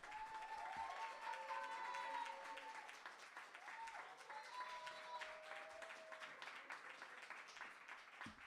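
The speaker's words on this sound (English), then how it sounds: "Let's applaud our poet, and let's keep those applause going" An audience applauds a poet at a Canadian individual poetry slam, giving steady, sustained clapping with crowd noise that stays at an even level, and a voice can be heard faintly under it.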